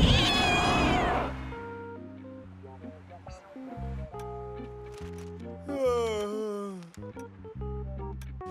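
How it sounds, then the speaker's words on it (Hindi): A cartoon cat lets out a drawn-out, wavering meow, then another rising meow a few seconds later, set against soft animated background music, up close and clear. "ए, प्यारी बिल्ली"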